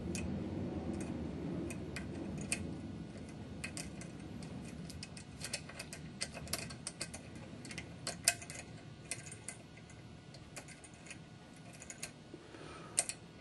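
Single pin picking of a pin-tumbler lock gives faint, irregular metallic ticks and clicks from the pick working the pins, scattered across a steady background hiss with no talking.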